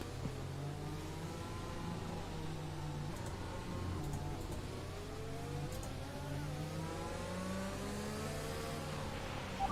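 Race car engines on the opening lap of a British Grand Prix in the F1 2021 video game, several cars revving and shifting up and down in overlapping whines, steady and moderately faint.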